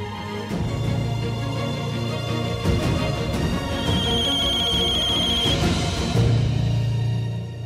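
A telephone rings with a repeating electronic ringtone. It plays continuously at moderate loudness over a busy background of music and effects.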